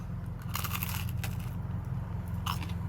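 Crunchy bites of a toaster-crisped pizza slice, several sharp crackling crunches close to the mic over a steady low car-engine drone, with no talking.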